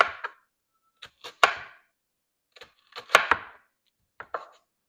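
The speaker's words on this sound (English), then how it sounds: "I'm just going to thinly slice my onion." A knife thinly slicing an onion on a cutting board, crisp close chops arriving in small quick clusters of two or three strokes separated by brief pauses.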